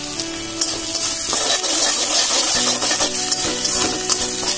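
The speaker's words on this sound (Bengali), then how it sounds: "এখন পেঁয়াজটা দিয়ে ভেজে নিচ্ছি" Sliced onions with a little sugar and Kashmiri red chili are fried and mixed in a pan for biryani, producing a loud, bright, continuous hiss and sizzle with stirring scrapes, while soft music plays beneath.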